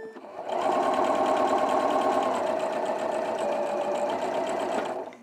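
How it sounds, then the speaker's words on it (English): A Continental M7 sewing machine stitching strips of quilt fabric together, running at a steady fast hum with a rapid needle clatter from start to finish, close and loud. "and now we're going to stitch them together."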